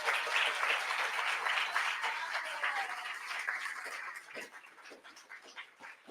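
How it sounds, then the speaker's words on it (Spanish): Audience applause at a book fair talk: a dense, sustained burst of many hands clapping that stays strong for about four seconds, then thins out into scattered, fading claps. "una vez más fuerte el aplauso para Diego."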